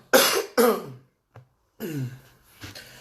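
Two sharp coughs in quick succession, then a brief breath and a throat-clearing cough, fairly close and loud, with silence between.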